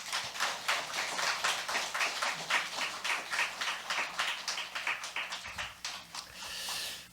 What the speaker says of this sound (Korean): 우리 함께 박수로 맞이하겠습니다